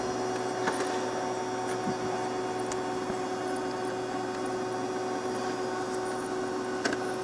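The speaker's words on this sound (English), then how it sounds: "it might actually be printing this time" An old HP LaserJet 5P laser printer running, a steady mechanical whir with a faint hum and occasional light clicks throughout, close and continuous.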